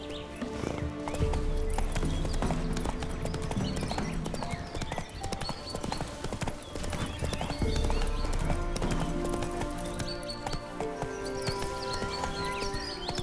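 A horse gallops through The Witcher 3 with steady, loud clip-clop hoofbeats lasting throughout, a whinny in places, and game music playing underneath.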